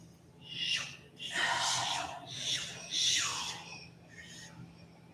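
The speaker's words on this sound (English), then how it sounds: "Give it a full breath in." An instructor-led deep breath during a yoga flow class: several soft, airy breathing sounds in a row, a long inhale followed by slower exhales, close and fairly quiet over a low steady hum.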